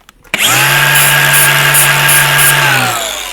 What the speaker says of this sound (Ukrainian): А можна брати болгарку.